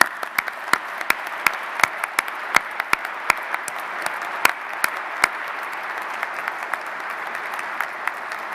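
An audience at a Stratcom change of command ceremony claps steadily, a sustained round of applause with distinct sharp claps standing out, fairly close and loud, no voices.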